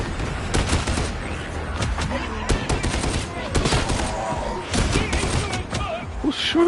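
Rapid, dense gunfire from Warhammer 40K Darktide on PS5, with bursts of automatic fire and overlapping shots that carry on loudly throughout, while a player's voice speaks briefly over the din.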